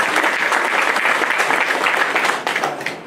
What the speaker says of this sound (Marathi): पुन्हा एकदा सगळ्यांनी जोरदार टाळ्या वाजवा